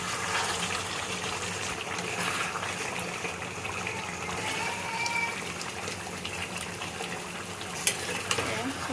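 Yogurt chicken curry with chicken masala sizzles and hisses steadily in a pan while being stirred, a continuous frying texture with a few small scraping clinks near the end, no talk over it.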